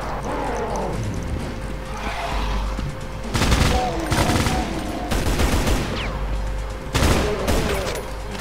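Repeated gunfire bursts in the video game Extermination Day, a tactical survival horror game, with loud volleys around 3.5, 5 and 7 seconds over a constant ambient game background.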